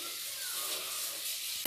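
Food sautéing in a pan at home gives a steady, close sizzling hiss for a short stretch, with a sharp clatter at the very end and no talking.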